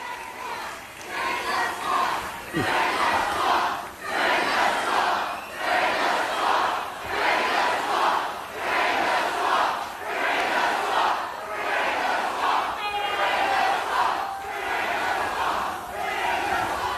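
A huge rally crowd in Cedar Rapids, Iowa chants in a loud, steady rhythmic roar of many voices, pulsing in regular beats and filling the space with cheering throughout.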